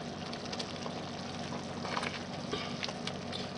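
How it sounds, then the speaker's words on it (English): A pot of New Orleans style gumbo bubbling steadily as filé powder is added a little at a time and stirred in, a constant close simmer with faint scrapes of the spoon. "I'm putting this whole jar of filet in, in the pot."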